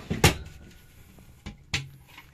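Sliding cabinet drawer in an Autostar motorhome opening or closing, heard as two short wooden knocks and slides about a second and a half apart, fairly close in a quiet interior.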